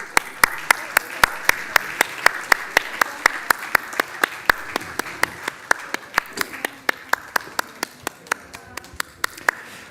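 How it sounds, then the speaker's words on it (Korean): Church congregation at a Sunday service claps in unison, a loud, regular beat of sharp claps about four per second that keeps steady over a softer background wash of scattered hands. "박수."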